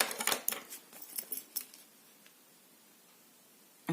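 Scissors snip through paper for a small handmade album, with a quick run of close, crisp cuts that fade into near silence.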